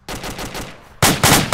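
Gunfire in the military shooter Arma 2: a short burst of automatic shots, then three loud, sharp reports spaced about a quarter second apart, close and dominant with no talking.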